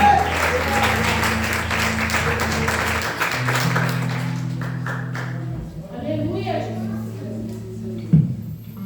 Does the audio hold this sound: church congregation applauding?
yes